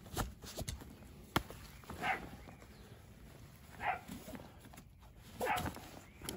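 A dog barks at a house cat in a few short separated bursts, moderately near, over a low background of rustling and handling noise.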